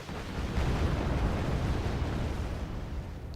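Artillery fire in the Wargame Red Dragon strategy game, a continuous heavy rumbling barrage of deep booms and blasts that blur together at steady loudness for the whole stretch, with no voices.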